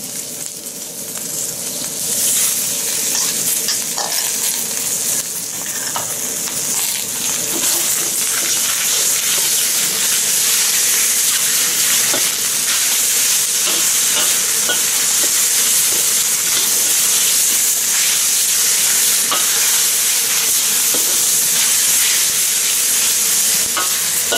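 Beef strips sizzle hard in a hot wok for Chinese-style chow mein, a loud, steady frying hiss with occasional crackles and stirring scrapes running unbroken throughout.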